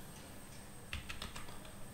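Keys on a computer keyboard are tapped in a short burst of a few quiet clicks while entering text in Excel, heard close and faint with no voices.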